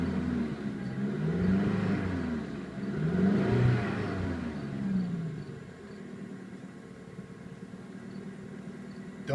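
A Mazda 3 with a 2.3L engine and about 148,000 miles runs during a test, revving up and down in a few rising and falling sweeps before settling to a steady idle.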